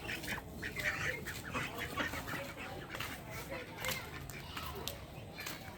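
Ducks on a duck farm quack and honk in a busy, continuous flock chatter while waiting to be fed, with a voice talking over them throughout.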